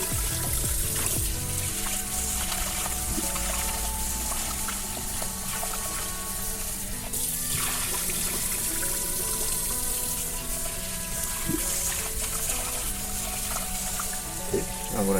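Water sloshes and swirls with grainy rustling and splashing as rice is rinsed, continuous and close, with a running tap underneath.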